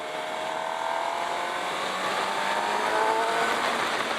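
A 2017 Suzuki GSX-R 750 sport motorcycle holds around 6,500 RPM on a ride, a steady, buzzing engine tone with rising harmonics under a constant rush of wind, heard close and continuous.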